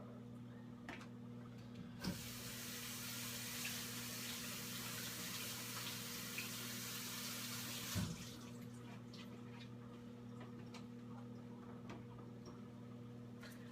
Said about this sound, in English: I'm going to wash these really quickly.